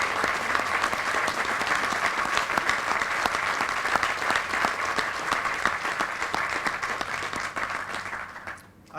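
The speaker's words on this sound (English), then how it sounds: "Can we give them all a round of applause" Sustained audience applause at a press conference announcing an affordable housing fund, a dense steady clatter of many hands lasting several seconds before tapering off at the end.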